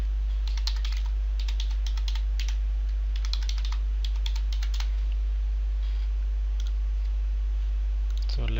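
Computer keyboard keys typed in quick bursts of clicks while a password is entered during SAP user setup, close and clear over a steady low hum, with pauses between runs of keystrokes.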